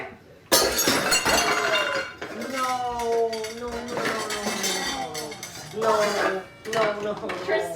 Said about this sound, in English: I broke Mom's bowl